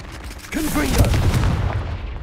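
A fiery Confringo blast spell erupts in Hogwarts Legacy, a loud whooshing burst with crackling impact that fills the clip after a quieter start, while a voice talks over it.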